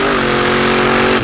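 Monster truck Jurassic Attack revving hard on the throttle in reverse at a muddy arena jamboree, a steady loud engine roar with harmonic drone held throughout, cutting off sharply at the end.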